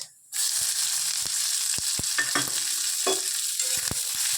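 Chopped onion hits hot oil already frying curry leaves: after a brief quiet moment a bright, loud sizzle bursts up and holds steady, punctuated by a few sharp clicks and scrapes of stirring against the pan.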